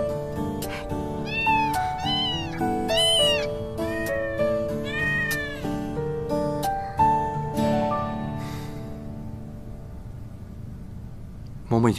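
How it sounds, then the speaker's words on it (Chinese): Newborn kittens meow in a rapid series of thin, high cries, close and clear over a soft background of music, with the calls thinning out toward the end. "刚出生的小猫很容易生病的"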